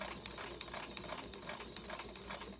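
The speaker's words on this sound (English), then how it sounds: "Gently ease that through my sewing machine." A domestic sewing machine stitches forward and back through many thick layers of a fabric bag, giving a steady rapid mechanical chatter with a few short pauses and bursts.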